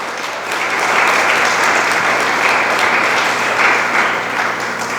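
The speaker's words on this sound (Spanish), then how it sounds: "Dele palmas al Dios del cielo." Loud, steady applause from a church congregation fills the space, a thick continuous wash of many hands clapping together at even intensity throughout, with no talking over it.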